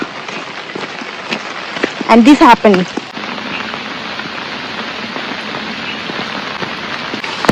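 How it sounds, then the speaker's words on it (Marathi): Heavy monsoon rain pours down in the Konkan countryside as a steady, loud hiss of drops on surfaces, briefly broken by a short burst of voice and clatter early on. "पावसाला परत चालू झालं"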